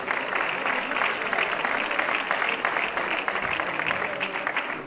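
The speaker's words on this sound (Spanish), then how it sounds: "Un aplauso para él." Sustained applause from a large crowd fills a sports awards gala, dense and steady throughout with no pauses.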